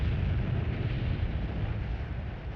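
A boat blowing up in a Yakuza video game, heard as a sustained, loud, low rumbling roar that stays dense and steady throughout without a sharp onset.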